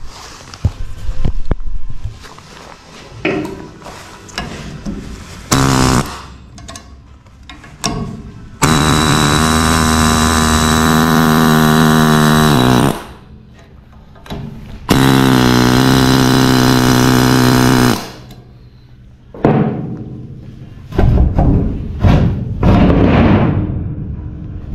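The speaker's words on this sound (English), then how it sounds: "Air hammer has quickly become one of my favorite tools." A pneumatic air hammer rattles in long, loud sustained bursts while freeing stuck suspension parts in a garage, with short clanks and pauses between runs.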